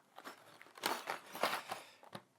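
Several crisp snipping and crunching cuts through cardboard, irregular and close, with short pauses between bursts.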